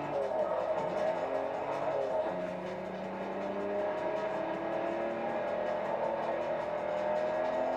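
Race car engine droning steadily through a corner in Forza Motorsport 3, a sustained mid-pitched motor tone with shifting harmonics, fairly loud and continuous with no sharp revving bursts.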